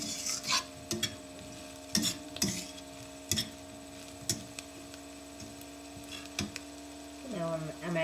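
A spoon stirs okra onion curry with fresh cilantro in a pan, making a regular series of scraping taps about once a second over a steady low electrical hum.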